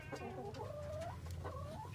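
A broody hen sitting on a hay-lined nest gives soft, drawn-out clucks and a rising, wavering moan, close and quiet over a low background hum.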